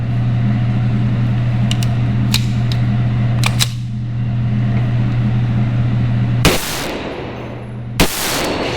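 Two loud rifle shots fired outdoors while testing an Aimpoint PRO red dot sight, each a sudden sharp blast over steady background hum, preceded by faint metallic clicks and handling noise.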